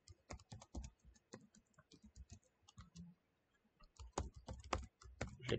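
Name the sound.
typing a password on a computer keyboard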